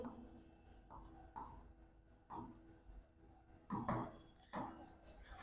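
Chalk or marker scratches across a classroom board during a Class 10 science lecture on the human respiratory system, a series of short rhythmic writing strokes heard faintly beneath steady room hiss and a nearby voice.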